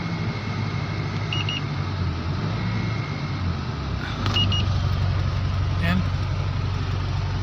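Mitsubishi Strada Triton pickup engine revving as the accelerator pedal is pressed, a steady nearby rumble that rises partway through, with a few short beeps and someone talking over it.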